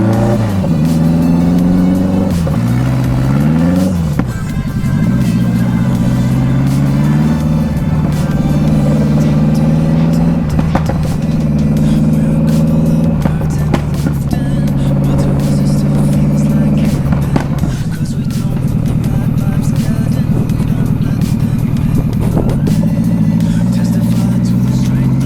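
A 1986 BMW K100 cafe racer motorcycle engine, its idle previously set too high, fires up and revs with rising and falling pitch, then holds a loud, steady running drone close by for the rest of the stretch.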